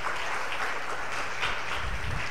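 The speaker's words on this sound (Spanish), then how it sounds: "brinde el mejor de los aplausos al Rey que vive y reina por los siglos de los siglos" A church congregation on its feet claps together in worship, a full, even burst of applause with a low rumble underneath, lasting a couple of seconds.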